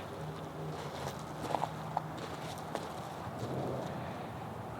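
A horse being lunged in a circle moves at a steady pace, its faint hoofbeats soft and distant over a constant outdoor hiss, with a few sharper knocks standing out.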